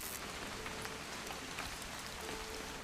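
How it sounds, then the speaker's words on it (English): Steady rain pours in the video game What Remains of Edith Finch, a dense, continuous hiss of drops falling on surfaces, evenly loud throughout with no voices. "It's gonna rain the whole weekend,"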